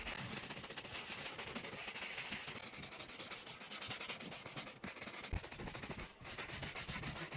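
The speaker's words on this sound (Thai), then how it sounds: "เราจะมีแปรง เราจะใช้แปรงในการขัดทำความสะอาด" A brush scrubs a leather car seat coated in foam cleaner, producing a close, continuous rhythmic rubbing and scratching that runs throughout without any talking.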